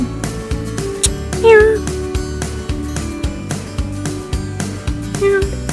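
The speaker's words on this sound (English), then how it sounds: "My sister's cat." A cat meows twice, clear and close, with rising and falling cries over a busy background of rhythmic clatter and other sounds, with a person's voice nearby.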